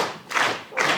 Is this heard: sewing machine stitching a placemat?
no